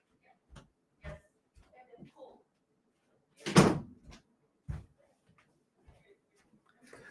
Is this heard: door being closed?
yes